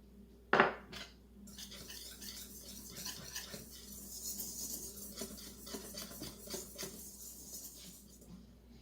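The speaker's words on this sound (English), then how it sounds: "whisk the flour, baking powder, baking soda," Dry ingredients of flour, baking powder, baking soda and salt are whisked in a bowl, a soft continuous scratching and patter of wire against the mixing bowl after one sharp knock at the start.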